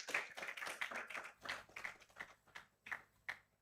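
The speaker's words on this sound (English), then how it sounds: "please give one more round of applause to our second winner, Mario Bani." Audience clapping for the second-place winner at a Falling Walls Lab competition in Yogyakarta, Indonesia, a brisk run of claps that thins into scattered, separate claps toward the end, moderately close and heard alone.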